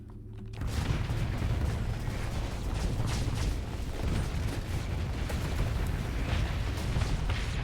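Chain-reaction explosions among warships in the space combat game Starsector, a dense, rumbling barrage of blasts and crackling impacts that rolls on loudly and continuously after an abrupt onset.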